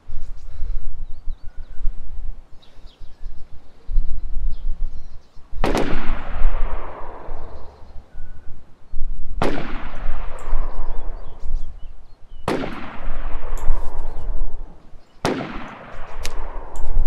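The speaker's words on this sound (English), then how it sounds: "Oh, they're shooting this way." Four loud, sharp video-game gunshots ring out several seconds apart, each cracking and then fading into a long echoing tail over a low background rumble.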